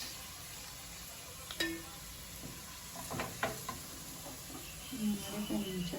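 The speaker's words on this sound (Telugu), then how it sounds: "దీన్ని బ్రౌన్ అయ్యే వరకు 3 to 5 minutes ఇట్లానే ఫ్రై చేయండి" Onions sizzle in a pan for a vegetable biryani, frying until brown: a soft, steady crackle with scattered pops and a few clinks of a utensil, fairly faint.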